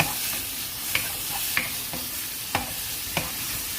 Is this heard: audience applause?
no